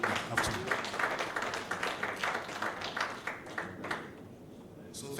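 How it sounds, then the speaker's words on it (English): Audience applause for presenters at a hybrid international conference, a dense spread of clapping across a room that carries on steadily, then thins and fades toward the end. "let's give a big round of applause to all our presenters for this Monday afternoon"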